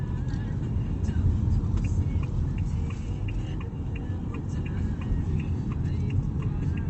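Inside an Ora Good Cat driving into a roundabout, a low steady road and cabin rumble is joined by the even, repeated ticking of the turn indicator.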